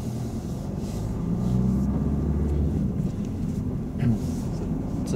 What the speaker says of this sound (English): Yes, you can drive on, Tony.